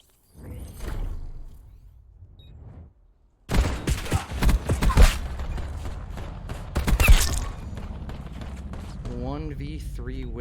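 A flurry of rapid pistol shots and impact noises bursts out in an esports first-person shooter match, dense and loud over continuous excited commentary from a caster.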